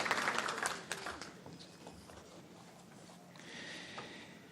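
Audience applause at a gala awards night, a burst of clapping that starts fairly loud and tapers to a thinner, quieter patter.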